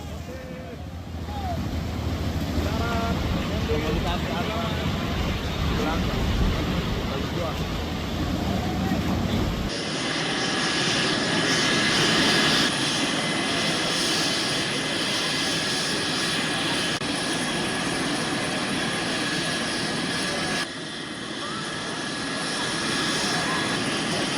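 A loud, steady roar from a helicopter evacuating landslide and flood victims in Luwu, Sulawesi, with whirring rotor noise throughout, shifting slightly partway through, and a voice audible early on.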